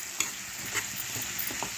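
Chopped ridge gourd curry with onion, tomato and mustard seasoning stirred in a pan, a spoon scraping in quick irregular strokes over a constant close sizzle.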